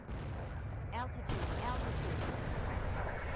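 Rocket strikes in Digital Combat Simulator, fired from an aircraft at a vehicle, after one rocket hits a tree: a dense, continuous rumble of blasts and booming impacts with a brief whistling tone near the middle, all under a voice.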